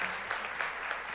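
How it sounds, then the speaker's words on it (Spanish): A live event audience claps in a short, dense burst of applause, steady and fairly even, with no voices over it. "Un aplauso se lo va a dar."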